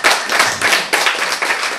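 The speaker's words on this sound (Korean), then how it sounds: "박수 크게 치세요" Brisk audience clapping during a health lecture, loud and close, coming in several rhythmic bursts over a couple of seconds with no voice on top.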